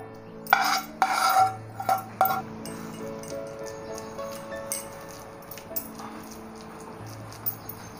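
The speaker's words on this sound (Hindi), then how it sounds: "अब हम इसको एक प्लेट में निकाल देते हैं।" Dry fruit paag is scraped out of a kadhai onto a plate, with several sharp metallic clinks and scrapes of a spoon against metal at the start, then quieter scraping as music plays.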